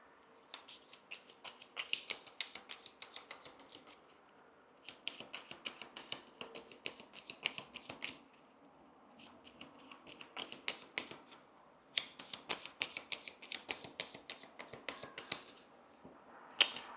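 Cards for the Legacy of Yu board game are shuffled close up in several bursts of rapid riffling and snapping, separated by short pauses and quiet handling.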